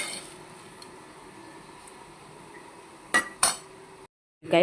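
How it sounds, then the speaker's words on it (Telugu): Cluster bean fry being moved from a pan into a bowl, with two sharp metallic scrapes and clinks of a spoon against the pan near the end over a quiet kitchen background. "మనము ఒక బౌల్లో తీసేసుకుంటున్నాం"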